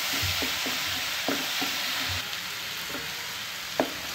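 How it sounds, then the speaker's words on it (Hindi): Meat lightly frying in a pan for koyla karahi, a steady broadband sizzle with a few sharp clicks and taps of a stirring utensil scattered through, close and continuous with no voices. "बिल्कुल हल्के से फ्राई करना है इसको"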